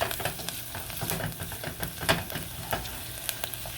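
Ingredients for ham with pineapple gravy softening in a pan, a steady close sizzle with small crackles and occasional stirring taps, moderately loud and uninterrupted by speech.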